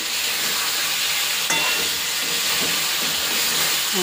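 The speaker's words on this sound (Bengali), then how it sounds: "দিয়ে তরকারিটা এখন কষিয়ে নিচ্ছি" A tomato, onion, garlic, potato and green chilli curry sautés in a pan, giving a steady, dense sizzle throughout with a few faint scrapes of stirring. No one speaks.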